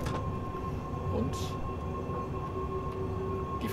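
A train rumbles past in Train Sim World 3, including a locomotive consist and a class 143 with double-deck coaches, a steady low roar with a faint whine and rattling wheels, even and sustained throughout.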